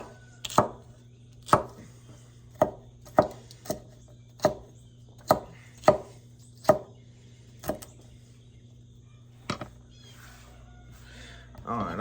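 Onion chopped on a cutting board for a breakfast platter, about a dozen sharp knife strikes at an uneven pace, close and distinct over a steady low hum, with a voice briefly near the end.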